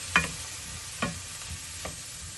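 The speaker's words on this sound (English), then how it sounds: "Continue to stir." Spoon scraping through butter bean stew in a pan, three separate soft strokes spaced about a second apart over a low, steady sizzle.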